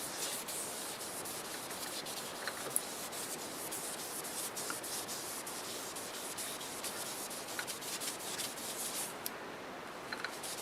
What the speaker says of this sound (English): here goes the first coat of shellac base sanding sealer